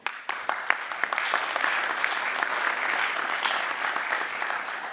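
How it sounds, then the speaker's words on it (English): An audience at a panel debate breaks into loud, sustained applause that starts with a few scattered claps and swells into dense, even clapping for several seconds. "Big applause."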